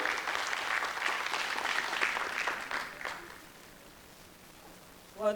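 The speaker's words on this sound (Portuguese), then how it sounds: "Recebeu mais uma vez com salvas de palmas a nossa secretária" An audience claps for a secretary at a cultural festival, starting as a dense, lively round that thins and fades out after about three seconds, followed by near silence and a short voice at the end.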